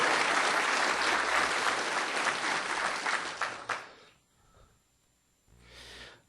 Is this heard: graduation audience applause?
yes